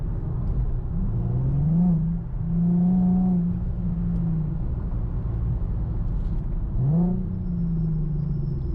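Infiniti G37 car driving in sport mode, its engine a steady low rumble with two rising rev swells as it accelerates, heard from inside the cabin with no talking.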